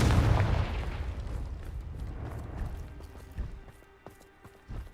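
A Confringo explosive spell in a Harry Potter video game bursts with a loud blast, rumbling away and followed by a few sharper pops and thuds.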